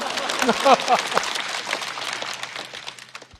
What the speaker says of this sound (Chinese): 请鼓掌祝贺吧